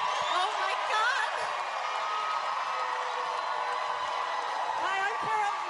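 A cheering crowd at Gatineau City Hall, a steady roar with whoops and some applause filling the space throughout, loud and continuous, with voices rising over the din.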